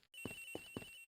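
A phone rings in the Ace Attorney Investigations video game, giving a short electronic trill with three quick pulses over a steady tone.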